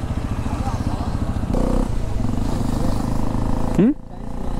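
A Hero Xpulse 210 motorcycle runs close by with a throbbing engine note that shifts and revs, ending in a quick rising whine before cutting away; voices talk over it.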